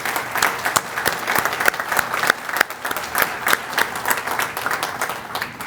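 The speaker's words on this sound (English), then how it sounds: "let's give them all a round of applause." An audience at a city state-of-the-city event gives a hearty round of applause, dense close clapping with distinct sharp claps standing out, rising and falling slightly in loudness.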